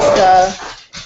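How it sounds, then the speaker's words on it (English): A pair of pet dogs at play let out a high, wavering whimper that rises and falls, then breaks off into a brief soft yelp, loud and close indoors. "excuse my dog, they're just playing in the background"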